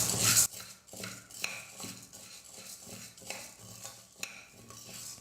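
Urad and chana dal roasting in a pan, stirred with a metal spoon that scrapes and taps against it in an uneven rhythm. Close and fairly quiet, with only a faint dry crackle beneath the stirring.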